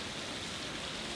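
Steady rain falling in George Town, Penang, a soft even hiss of drops on surfaces, faint and continuous with no voices.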